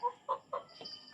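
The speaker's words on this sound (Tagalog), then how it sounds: "Yung mga manok na to oh." Chickens cluck close by, three or four quick, clipped clucks in a fast run with near silence between them.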